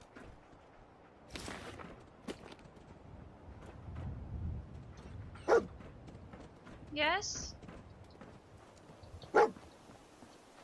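Dogmeat, the dog companion in Fallout 4, barks and yips a few times, with short sharp barks scattered among game sounds while a person speaks briefly.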